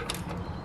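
Ratchet wrench clicking during a brake pad and rotor job on a first-generation Toyota Sequoia, a short, brisk metallic ratcheting burst heard up close over garage noise.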